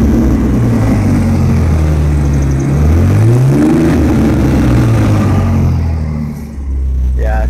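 A 2003 Ford Mustang V6 engine droning loudly with a low rumble, heard while driving, the pitch rising and sliding as it accelerates, with a brief dip near the end.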